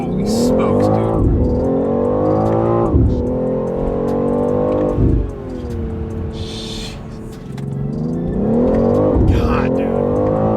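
BMW X3 M with a JB4 tune revving hard through repeated full-throttle pulls, engine note climbing in pitch on each rise with brief shift breaks, loud and close from inside the cabin, with voices talking over it.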